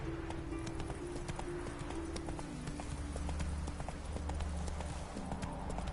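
Hooves of Roach, the horse in The Witcher 3, pounding in a fast continuous gallop at close range over a steady bed of game music and ambience.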